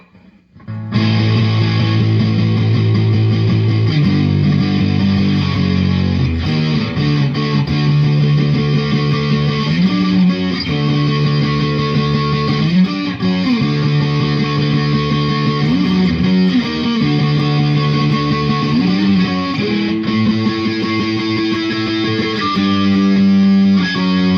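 A 2021 Gibson '70s Flying V on its neck pickup plays heavily distorted sustained chords and riffs, loud and continuous, with no voices.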